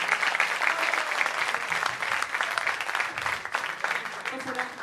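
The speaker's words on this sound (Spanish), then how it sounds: "Un aplauso para Anuar Tello que queda con nosotros" Audience applause for a singer at a Christian music festival in Coquimbo, a sustained patter of many hands clapping at moderate volume, with voices mixed in under it.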